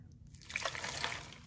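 Water is poured onto a heap of Mount Chewy candy in a container, giving a steady trickling, splashing stream that starts abruptly and runs close and soft without speech.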